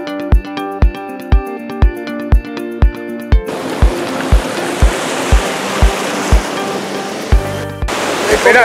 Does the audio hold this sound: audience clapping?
no